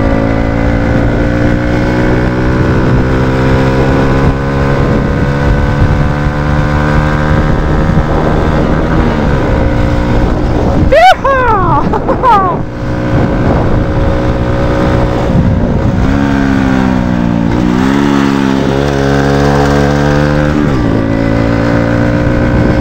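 A car engine runs steadily and close, its pitch sweeping up and down in a few revs and shifts, loud throughout with no talking.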